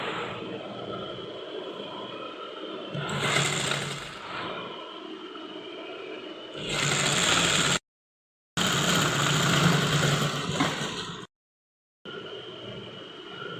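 A sewing machine stitches the back neck strip of a kurti in short bursts of whirring motor noise separated by pauses, close and moderately loud, with no talking.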